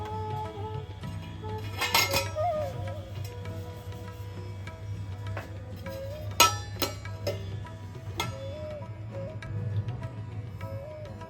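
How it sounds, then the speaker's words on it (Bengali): A metal lid comes off a wok of cooked dough for milk pakon pitha, making a few sharp clinks and scrapes over a steady low hum, with no talk. "এবার আমি কড়াইয়ের ঢাকাটা খুলে দিলাম"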